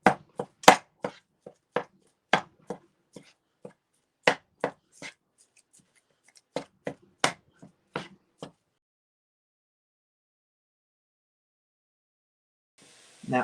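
Ground beef cooking in a pan while a spatula breaks it apart: a series of sharp, distinct tapping and scraping knocks, close and irregular, stopping after about eight seconds into near silence.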